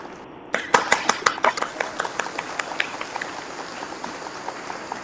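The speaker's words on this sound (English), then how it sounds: "I need to give you applause there on that one" Hands clap at a live online singing show: a handful of sharp, quick claps in a loose rhythm, moderately close and fairly quiet, with no cheering.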